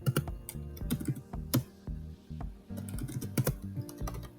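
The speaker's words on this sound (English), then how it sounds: "we'll just click on enter and then the backspace" Fingers type Python code on a computer keyboard in quick irregular bursts of clicky keystrokes, with a few louder key hits standing out, close and alone with no speech.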